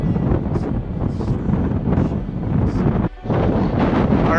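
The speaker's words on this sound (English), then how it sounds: "The wind is like 40, I think it's about 60 miles per hour right now." Strong wind gusting at roughly 50 to 60 mph through Desolation Canyon in Death Valley, roaring loudly and continuously across the microphone with only a brief dip in force.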